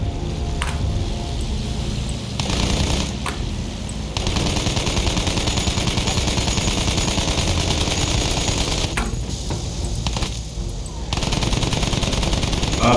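Sustained, loud automatic machine-gun fire in Battlefield 1 rattles almost continuously, with brief dips, amid game explosions and engine noise; no speech.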